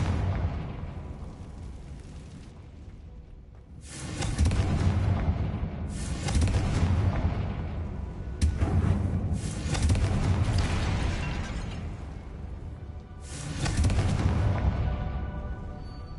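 Repeated fire-blast spell explosions from the Confringo spell in Hogwarts Legacy, a run of heavy booming bursts arriving in several rolling waves with sharp cracks between them, loud and close, with no talking.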